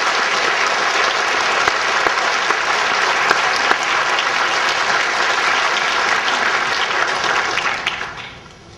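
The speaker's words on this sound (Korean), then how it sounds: "목사님 나오실 때 하나님께 감사드리는 마음으로 우리 큰 박수 드리겠습니다." Church congregation applauds warmly as the pastor comes forward to preach, a dense, steady wash of clapping filling the room for about eight seconds before tapering off at the end.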